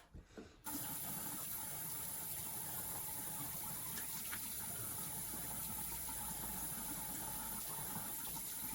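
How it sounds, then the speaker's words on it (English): Warm water runs steadily from a bathroom tap into a sink during a nighttime skincare routine, a continuous close gushing splash after a brief quiet start, with no talking. "with some warm water I'll rinse it off"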